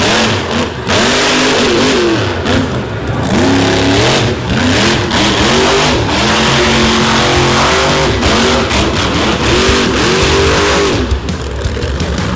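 Monster truck engine revving hard during a show run at a monster truck and mega truck event, loud and close with repeated rising and falling throttle surges throughout.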